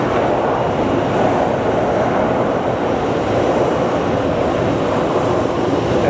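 An Airbus A340 at Phoenix Sky Harbor airport gives a loud, steady broadband jet roar that holds at an even level from start to finish, with no talk over it.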